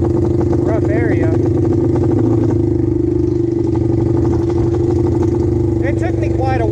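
A 1974 Honda CL200 motorcycle engine drones steadily while riding over rough ground, a loud continuous mid-pitched hum with clattering, as someone talks over it.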